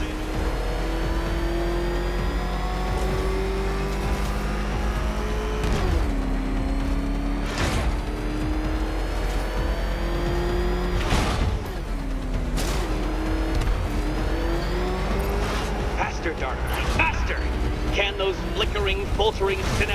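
Batmobile engine from Batman: Arkham Knight, a steady loud drone with repeated revving surges and gear shifts, under a voice.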